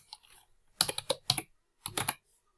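Short bursts of computer keyboard typing as a word is entered in a kids' coding app, a few close, crisp keystrokes in two quick clusters separated by quiet pauses.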